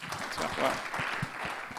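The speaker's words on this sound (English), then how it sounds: "Come on, let's clap for her." Worshippers at a midweek church service applaud a woman who has just read scripture, a soft, diffuse patter of clapping with a few distinct claps, while voices talk faintly over it.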